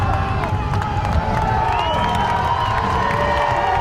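Football crowd at a Carroll versus Homestead high school game rising to its feet on fourth down, a sustained loud roar of cheering and shouting filling the stands, with a bright whistle-like tone cutting through.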